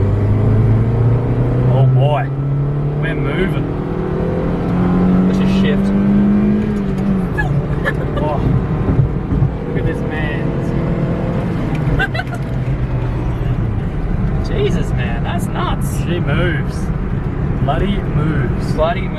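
A Nissan R33 Skyline at full throttle climbs through the gears toward 300 km/h, its engine droning loudly from inside the cabin with rising, shifting pitch, while voices talk over the roar.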